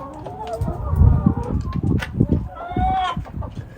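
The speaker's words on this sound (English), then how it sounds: "we keep chickens for meat and the chickens for the eggs. So we have our layers in here" Laying hens in a coop clucking and murmuring close by, with a few sharper calls rising over a busy background of farmyard sound.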